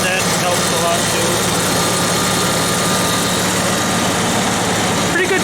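A 1954 Farmall Super C tractor with coil ignition idles close by, its engine giving a steady low chugging rumble that holds even and constant from start to finish.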